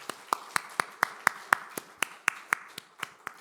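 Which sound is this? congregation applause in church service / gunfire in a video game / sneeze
congregation applause in church service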